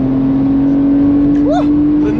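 A rear-wheel-drive Porsche 911 Carrera S engine drones loudly and steadily on the Le Mans circuit, a strong constant hum from inside the car, with a voice calling out briefly over it.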